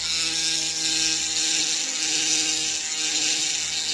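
Flex shaft rotary tool spinning a burr to carve a ring impression die, a steady high-pitched whine held at constant speed for the whole stretch, close and fairly loud with no talking.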